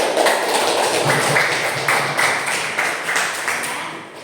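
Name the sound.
classroom clapping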